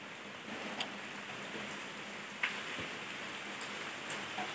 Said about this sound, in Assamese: এইফালে বৰষুণ দিয়ে আছে